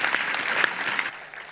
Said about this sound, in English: Big round of applause for our guests today.